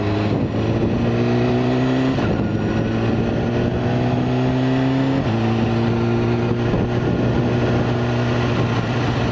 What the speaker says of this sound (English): You feel it sort of throttle up a bit, just there on the downshift.